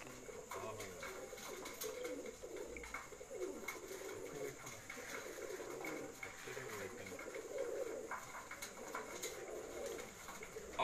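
Pigeons coo repeatedly in low, rolling calls, several birds overlapping over a constant ambient hum.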